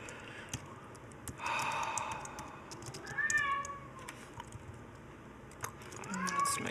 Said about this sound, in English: I'm running low on patience with the cat yelling at me.